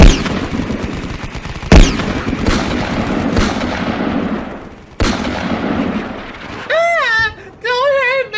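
Gunfire in a Transformers fan video battle with Decepticons: several loud, sharp blasts with echoing decays, each standing alone, followed by wobbling electronic sci-fi tones near the end.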